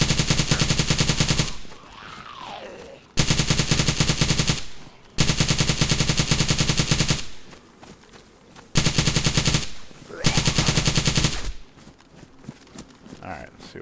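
Automatic gunfire mows down zombies in the survival game DayZ, coming as long rapid bursts that repeat several times. Talking fills the short gaps between the loud, close volleys.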